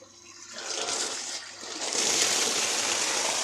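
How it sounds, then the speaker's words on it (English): Water is released from a small home aquaponics system, a rushing, splashing gush that starts moderately and swells louder and fuller after a moment, continuing steadily. "I'm actually releasing some water"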